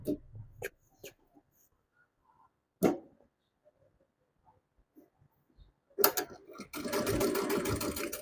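Juki DDL-900C industrial sewing machine with a size 14 needle stitching, first a few isolated clunks and taps, then a steady close mechanical whir that starts abruptly and runs continuously to the end.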